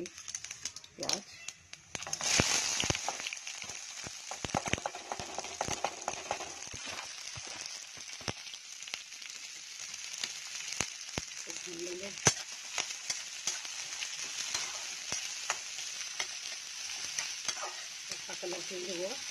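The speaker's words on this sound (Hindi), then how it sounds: "जीरा चटक जाएगा तो अब हम इसमें प्याज भी डाल देंगे अपनी।" Onions frying with crackling cumin seeds in a pan while chole are cooked, a steady sizzle with stirring clatter and spatula scrapes running throughout, fairly close and at moderate level, with a few brief louder knocks.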